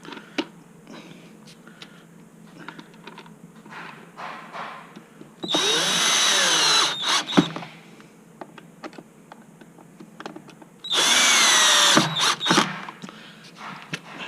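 A power drill on a low torque setting drives screws into plastic housing in two loud bursts of a few seconds each, separated by quieter handling clicks and rustling.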